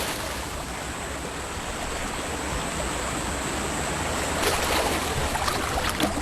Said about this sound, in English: Those splashes are as clear as a dinner bell.